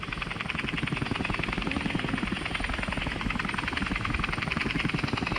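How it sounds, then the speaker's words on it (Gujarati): A helicopter's rotor chops in a fast, even pulse, close and loud, holding steady throughout with no voices. "હેલિકોપ્ટર ચલાવી દે."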